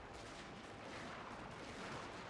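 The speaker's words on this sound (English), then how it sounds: "I want my black tortoise force to shoot" Massed musket volleys from a black tortoise unit in the Shogun 2: Fall of the Samurai strategy game form a dense, continuous crackling roar of gunfire, with no pauses or talk.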